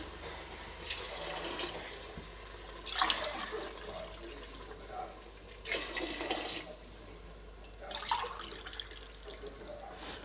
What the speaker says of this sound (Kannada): ಒಂದು ಲೋಟ ಅಕ್ಕಿಗೆ ಎರಡು ಲೋಟ ನೀರು ಹಾಕ್ಕೊಳ್ತಾ ಇದ್ದೀನಿ